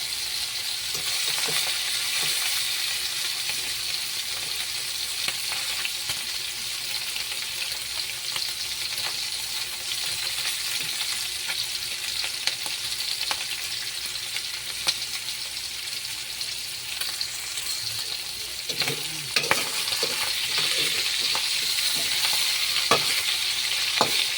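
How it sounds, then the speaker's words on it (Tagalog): Onion frying steadily until translucent, a continuous loud hiss and crackle of oil with intermittent scrapes and taps of a spatula stirring in the pan, no voices. "Lutuin pa po sa ating saglit ng sibuyas. Kasi maging translucent po siya."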